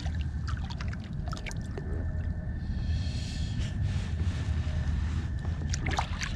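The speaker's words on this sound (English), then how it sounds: "Yeah, trolling motor." A trolling motor on a kayak hums steadily at night on slack water off the Ohio River, with a constant low drone, wind buffeting and light water splashes throughout.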